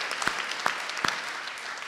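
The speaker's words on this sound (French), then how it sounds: "Il faut l'applaudir" A keynote audience gives a few scattered, light handclaps, sparse and fairly close, over a quiet room hum.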